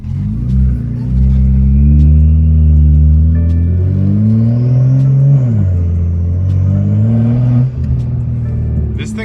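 Crashed BMW M2 engine revving under acceleration while driving, a loud steady rumbling drone that rises and falls in pitch with throttle changes, with a voice speaking over it.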